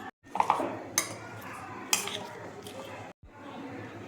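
Chopped onion, tomato, potato and salt are mixed together in a bowl for a Katla fish dish, with a few sharp clinks of a utensil against the dish and soft scraping in between.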